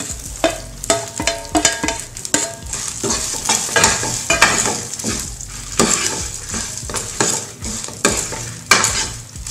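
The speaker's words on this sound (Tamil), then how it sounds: "நல்லா வறுத்தாச்சு. நல்லா முள்ளங்கி இதிலே போட்டுடலாம்" Chopped radish sizzles while being fried for chutney and stirred in a pan. A utensil scrapes in steady repeated strokes over a continuous close hiss, with no voices.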